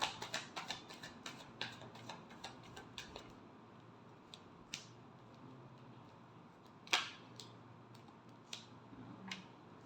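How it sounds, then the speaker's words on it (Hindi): Tarot cards being shuffled, with dense quick riffling clicks and flicks at first, then sparser, isolated card snaps, close up and moderately quiet, with no talking. "Last shuffle."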